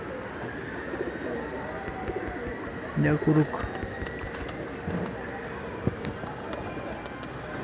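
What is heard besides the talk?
pigeons cooing at a loft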